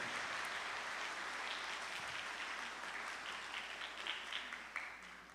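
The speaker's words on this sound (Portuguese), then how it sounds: "Uma salva de palmas para quem fez aqui para nós" A church congregation claps during a homily, a fairly faint, steady wash of hands with a few sharper claps standing out toward the end and no voices over it.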